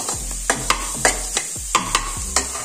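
Ingredients being mashed in a cooking pan during home dinner preparation, about eight sharp, close utensil knocks and scrapes in an uneven rhythm over a soft sizzle.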